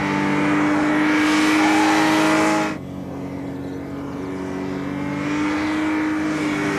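A 2006 BMW 330i engine drones steadily at high revs while driving through cones, then drops sharply in pitch and volume as the driver lifts off, before building again.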